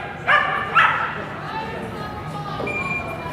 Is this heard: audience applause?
no